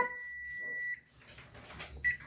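A timer alarm gives a sustained electronic beep that cuts off, followed by quiet shuffling and then a brief second beep.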